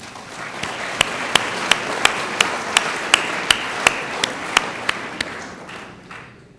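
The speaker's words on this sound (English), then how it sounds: "How about a round of applause for Dave?" Audience applause at a 2006 State of the City address, steady clapping that swells and holds, with a series of sharp regular click-like accents on top, fading out at the end.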